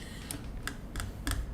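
A few separate keystrokes on a computer keyboard, four crisp, fairly quiet clicks spaced unevenly against a low background hum, no speech.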